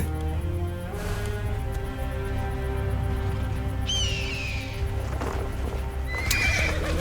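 Steady hoofbeats clip-clop under a droning background in the video game Assassin's Creed Origins, with a couple of horse whinnies breaking through near the middle and end.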